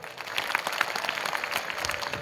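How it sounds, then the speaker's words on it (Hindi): Audience applause at an Adivasi gathering with a speech, steady dense clapping throughout, fairly loud and continuous with no voices over it. "उन सबको एक बार तालियों से अभिनंदन करिए दोस्तों"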